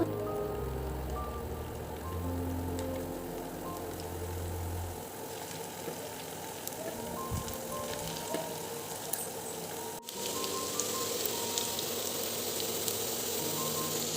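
Bread gulab jamun balls frying in hot oil, a soft steady sizzle and patter of bubbling that continues evenly throughout, fairly quiet with no talk.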